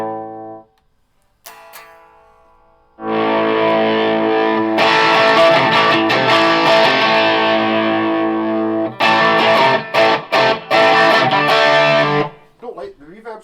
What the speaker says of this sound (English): I've got reverb on, a reverb pedal and nothing else apart from Paul Gilbert.